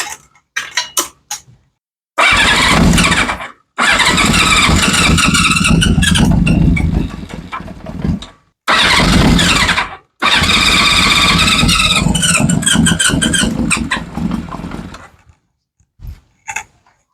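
A 1971 Honda CB500 motorcycle, left sitting for 30 years, cranks with a squeal, catches and runs in loud ragged bursts, stalling and restarting several times before dying out.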